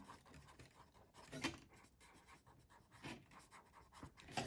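Marker or chalk scratching across a board while a histogram is being drawn, quiet rapid strokes and taps with a few brief louder squeaks, close and without talk.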